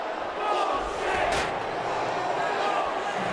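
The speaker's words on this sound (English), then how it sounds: "I agree with the crowd. Look at them. They're not happy." A displeased arena crowd in a WWE 2K wrestling video game, a steady loud roar of booing and jeering that swells and holds for a few seconds with no one speaking.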